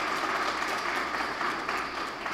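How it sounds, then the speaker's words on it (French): Applause at a certificate ceremony for ministry staff, a steady, dense patter of clapping from a crowd filling the room, sustained evenly without breaks. "vraiment un applaudissement pour UNESCO qui a accompagné nous"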